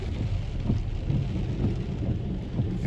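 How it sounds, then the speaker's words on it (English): A thunderstorm with steady rain and low rolling thunder rumbles, moderately quiet and continuous, with no voices. "signs of the actual thunderstorm have hit"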